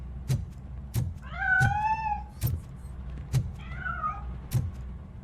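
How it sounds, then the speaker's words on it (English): A cat meows twice in the video game RoboCop: Rogue City, the drawn-out wavering calls standing out between regular thudding footsteps. "That cat must be hiding inside."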